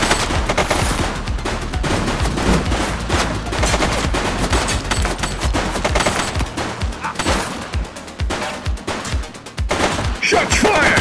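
Sustained automatic gunfire from a fleeing suspect during a police chase in the video game The Precinct, loud, dense bursts of rapid shots filling the whole stretch with brief dips between volleys.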